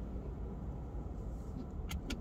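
A Skoda Octavia mk4 1.4 petrol hybrid pulls away in drive, giving off its artificial driving sound: a faint, steady low hum and rumble, with a couple of soft ticks near the end.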